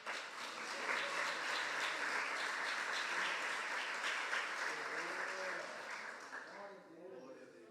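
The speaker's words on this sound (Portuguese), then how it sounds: "Você pode aplaudir Jesus por isso." A church congregation applauds during a sermon, a dense, steady wash of many hands clapping for several seconds before tapering off, with a faint voice emerging near the end.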